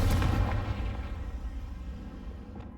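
A Confringo blasting spell explodes in the video game Hogwarts Legacy, a single loud booming burst that rumbles and fades over a couple of seconds.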